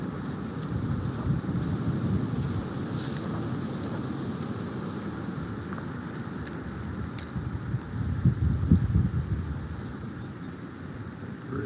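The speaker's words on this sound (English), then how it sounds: "You can hear the wind right now." Wind blows steadily through an ice-storm-damaged forest in Northern Michigan, a continuous broad rushing roar with low rumbling gusts that swell near the end, heard alone without talk.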